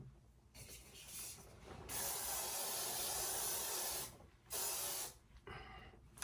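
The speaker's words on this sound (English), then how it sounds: "Hairspray." Hairspray hisses from an aerosol can in a few short bursts and one longer sustained spray, close and fairly quiet, with soft handling noises in the gaps.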